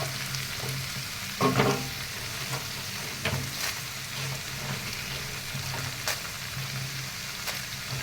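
Dried red chillies frying in hot oil for pirandai chutney, a steady soft sizzle running throughout with a few brief stirring clatters and scrapes near the start and middle.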